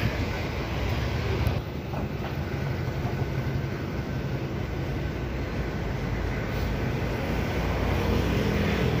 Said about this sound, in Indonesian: 22 RD meninggalkan parkiran agen Sinar Jaya Cililitan